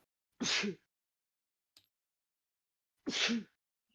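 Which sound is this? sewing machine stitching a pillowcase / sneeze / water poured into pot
sneeze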